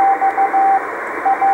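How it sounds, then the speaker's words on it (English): Morse code beacon from the HO-68 amateur radio satellite, received by radio as a steady tone keyed into short and long dashes over a loud band of hiss and static. "This one's in Morse code"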